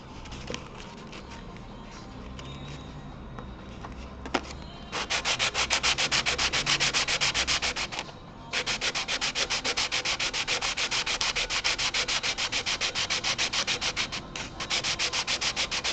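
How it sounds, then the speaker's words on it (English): Purpleheart wood being sanded: a steady, close, rasping hiss that runs continuously in long passes with brief pauses, loud and alone. "first I will sand them down a bit and see how it looks when it's sanded down."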